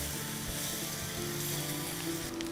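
Puffed rice pizza batter cooking in an oiled pan over lowered heat, giving a soft, continuous sizzle that stays fairly quiet throughout.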